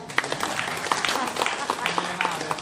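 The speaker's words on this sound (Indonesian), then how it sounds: "Tepuk tangan lah." A crowd at a tourism group's inauguration ceremony in Batam claps, sharp individual claps scattered fairly close over a busy background.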